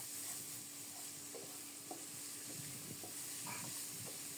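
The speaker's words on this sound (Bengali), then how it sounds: "কাঁচামরিচ, বরবটি লবণের সাথে খুব সুন্দর মতো ভেজে নেব" Green chillies and yardlong beans frying with salt in a pan, a soft continuous sizzle with light stirring scrapes, fairly quiet and close, no voices.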